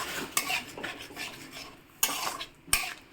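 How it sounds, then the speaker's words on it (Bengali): A spice paste for a meat curry is stir-cooked in a little water in a bowl, with a utensil scraping and clinking against the sides in a few sharp knocks over a soft, continuous stirring rustle. "অল্প জলে মশলাটা একটু কষিয়ে নিচ্ছি"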